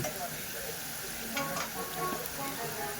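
Bitter gourd pieces frying in a pan at home cooking, a steady close hiss and sizzle running throughout with faint stirring scrapes; a voice murmurs softly underneath.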